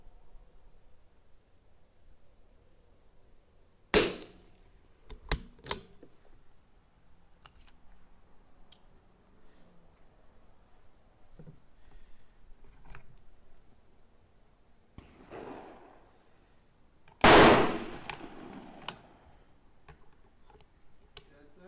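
Two sharp rimfire rifle shots from a CZ457 at an outdoor range, the first around four seconds in and the second louder near seventeen seconds, with a few faint ticks and quiet ambient noise between.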